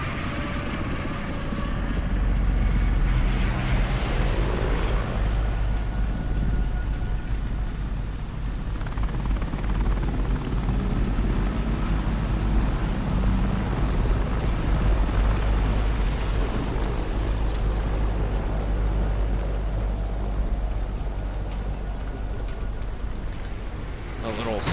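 Helicopter rotor thudding loudly and steadily in the shooter game Deadrop, a dense continuous chop with a rain-like wash, holding close throughout with no talking.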